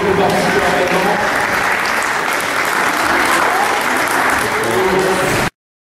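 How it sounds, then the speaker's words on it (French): Loud, dense applause from a crowd at a football coaches' training session, sustained without pause until it cuts off abruptly. "on peut les applaudir bien sûr les parents, les entraîneurs"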